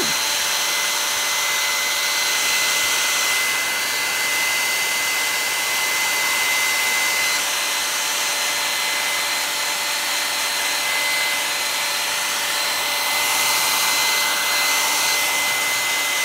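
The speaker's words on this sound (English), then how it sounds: "then we are going to blow dry and see what happens again" Hair dryer blowing on freshly poured paint, a loud continuous whirring hiss with a steady motor whine that holds level for the whole stretch, with no talk.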